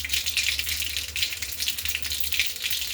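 Cumin seeds added to hot oil in a kadhai that already holds popped mustard seeds produce a steady, close crackle with rattling bursts over a constant sizzle.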